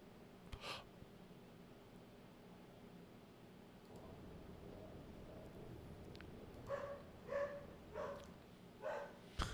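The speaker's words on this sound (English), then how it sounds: "The crazy dog is going to go crazy." A dog barks in short bursts near the end, several separate yips and barks rising over steady background noise from a truck race broadcast at a motor speedway.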